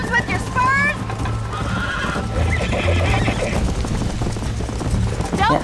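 Horses neigh and whinny with clip-clopping hooves during a horse race in the Western video game Red Dead Redemption, loud and busy, with voices talking throughout.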